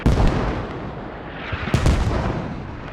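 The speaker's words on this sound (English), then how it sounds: "we actually do have the mortars from the American team landing on that compound as well" Mortar shells from the American team land in the video game Squad, with heavy booming impacts at the start and another cluster of sharp blasts partway through, each trailing into rumbling echo.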